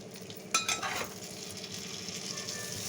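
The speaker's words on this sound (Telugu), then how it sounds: "అటువైపు ఇటువైపు కదుపుతూ ఉంటే అన్ని వైపులా ఈ విధంగా వేగుతాయి మగ్గిపోతాయి వంకాయలు" Stuffed brinjals frying in a pan give a steady loud sizzle throughout, with a couple of sharp stirring scrapes early on.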